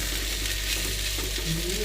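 Okra bhindi bhujia frying in a pan gives off a steady, close sizzle with faint stirring, and no one talks over it.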